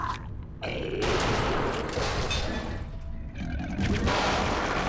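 Dense, continuous gunfire from the video game Return to Castle Wolfenstein, loud and sustained with bursts stacking over one another and a brief lull near the middle.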